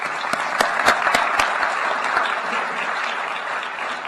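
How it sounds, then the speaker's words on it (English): Audience at an Eisenhower Fellowships gathering in Kigali breaks into steady, dense applause with a few sharp nearby claps early on, sustained at an even level throughout. "Let's give her a heartfelt round of applause."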